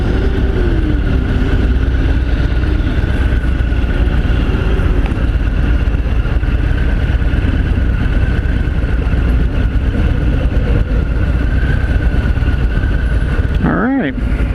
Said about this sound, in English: this is the 2018 Fat Bob with a 114 engine